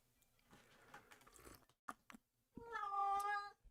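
A domestic cat gives a loud, drawn-out meow near the end, after some quieter rustling and scattered small sounds.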